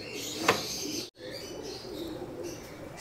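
Racing pigeons at a loft give soft cooing and chirping calls close by, with a brief sharp flutter near the start and a short gap before steady low calls resume.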